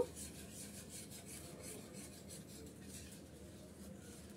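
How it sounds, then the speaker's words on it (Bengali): Sweet dessert mixture stirred continuously in a pot, giving a faint, steady rubbing scrape with soft repeated strokes throughout and no voices. "অনবরত নেড়ে চেড়ে মিক্স করে নিচ্ছি আমি"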